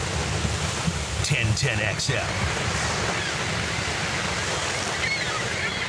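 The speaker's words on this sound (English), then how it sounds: "Radio waves sound great when you're next to ocean waves." Ocean surf sound effect in a radio station jingle: a steady broadband wash of waves runs throughout at moderate level, with short station-ID talk and a few brief bursts near the start.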